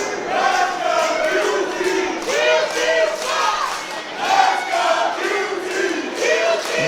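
A packed crowd at a live wrestling show roars in a split reaction, with chanting cheers and boos rising and falling in loud, overlapping waves.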